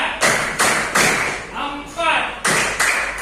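An elementary classroom of pupils claps a rhythmic tepuk pattern on command, loud, close bursts of hand claps repeating in groups with brief pauses, a teacher's voice calling between them.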